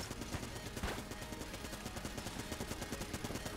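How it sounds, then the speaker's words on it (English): Rapid, continuous Gatling gun fire in the top-down shooter Enter the Gungeon, a dense stream of shots running steadily throughout at moderate level with no talk. "his Gatling gun's random"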